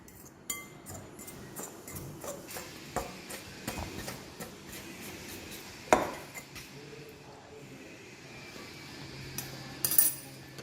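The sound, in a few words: mixing chapati dough with milk using a fork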